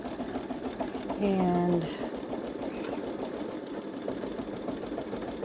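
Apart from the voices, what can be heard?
Baby Lock Solaris embroidery machine stitching letters on T-shirt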